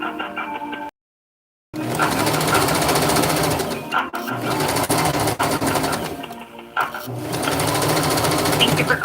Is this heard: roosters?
no